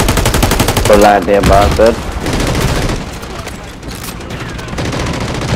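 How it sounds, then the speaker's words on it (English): Rapid bursts from a sentry gun in a Call of Duty video game, loud and close, rattling in dense runs with booms mixed in while someone talks over it. "Oh, it's a sentry gun."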